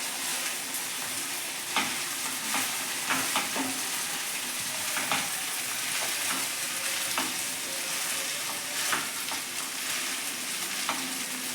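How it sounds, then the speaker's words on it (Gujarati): Sabudana khichdi being stirred in a hot pan, a spoon scraping and tossing the tapioca pearls and mix as oil sizzles softly underneath, with irregular clinks and scrapes throughout and no talking. "બધી જ વસ્તુને આપણે મિક્સ કરી લઈએ."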